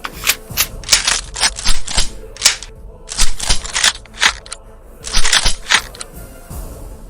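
Gunfire sound effect for a horror story, loud sharp shots in quick irregular bursts, some fast rattling strings, with brief pauses between volleys and close, dry cracks.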